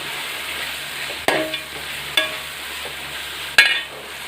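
Ginger garlic paste with salt sautés in a hot pan for a Kozhikode chicken biryani, a steady sizzle with three or four sharp clinks and scrapes of a spoon against the pan, close and clear, no voices.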